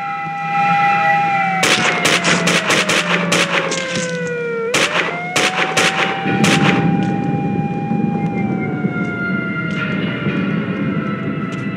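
Police opening fire on Max Payne in the game Max Payne 2, rapid cracking gunshots in clustered bursts over a wailing police siren that bends down and back up in pitch.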